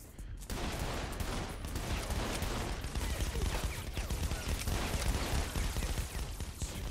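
Dense, continuous gunfire from Saints Row The Third, a sustained barrage of shots at steady loudness across the whole stretch after a brief quiet start.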